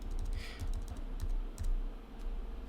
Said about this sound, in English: if we use the plus and minus keys whilst we're actually in the window